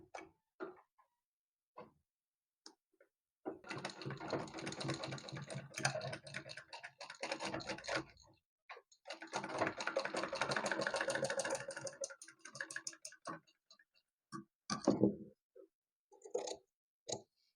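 A sewing machine stitches a blouse latkan in two long runs of rapid, steady mechanical chatter, separated and followed by short quiet handling clicks and taps, close and fairly loud.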